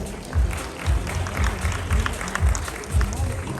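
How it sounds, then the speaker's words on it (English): An audience at an academic conference applauds a professor after his session, giving steady clapping with soft low thumps recurring at a regular pulse. "a big round of applause"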